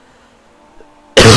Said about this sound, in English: Sorry for that cough there